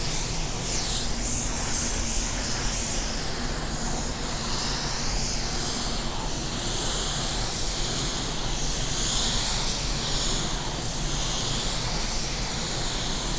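A spray gun applies sealer to a car panel, giving a steady, loud, continuous hiss of compressed air that runs unbroken from start to finish with no talking.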